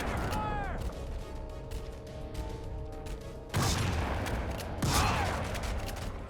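Shotgun blasts in the video game Crysis 2: two loud, booming shots a little over a second apart, each with a sharp crack and rumbling tail, following a stretch of droning in-game ambience and mechanical hum.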